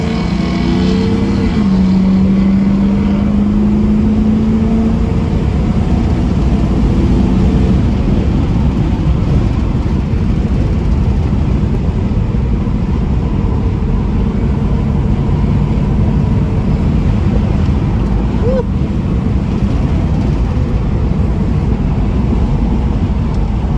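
A 1973 F-body with a swapped LQ4 6.0 V8 idles inside a shop, a loud, steady, close rumble holding unbroken throughout with no voices.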